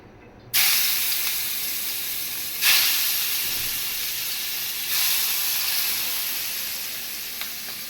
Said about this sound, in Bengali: এখন আমি ফ্রাই প্যানে তেল দিছি পাঙ্গাস মাছটা ভাজবো